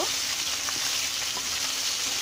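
Fish heads fry in hot oil for a Bengali fish-head moong dal, making a steady close sizzle and crackle with small pops.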